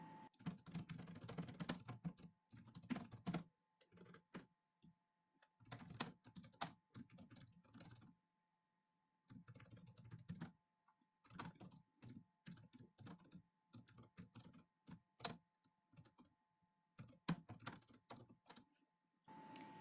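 Someone types on a computer keyboard, entering a dataset description, in close, quick bursts of keystrokes separated by short pauses.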